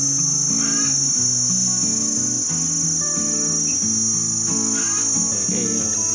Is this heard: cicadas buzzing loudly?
yes